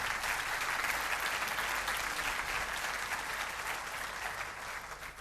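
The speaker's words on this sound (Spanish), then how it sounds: "Si quiere usted aplaudir, apláudale al Señor" A church congregation applauds the Lord during a Spanish-language sermon, with dense, steady clapping filling the space and holding at an even level before thinning slightly toward the end.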